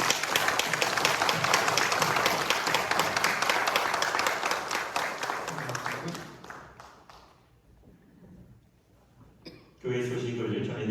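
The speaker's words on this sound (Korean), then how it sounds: "여러분 뜨겁게 박수로" Church congregation applauding to welcome a new evangelist during a Sunday service at a Korean Methodist church; steady dense clapping for about seven seconds, then fading, with a voice starting up near the end.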